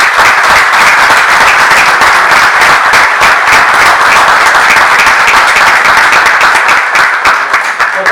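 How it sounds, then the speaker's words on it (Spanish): An audience at a philosophy lecture breaks into loud, continuous applause for a man named Eduardo, a dense wash of many hands clapping close by that holds steady for the whole stretch. "un aplauso a Eduardo"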